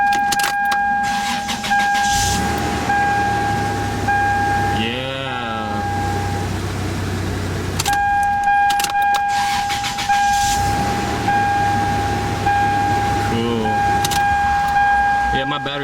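A Toyota V6 5VZ-FE engine, fresh from a timing belt replacement and on a low battery, cranks over, catches and settles into a steady idle close to the microphone; a radio tone and a voice are heard alongside.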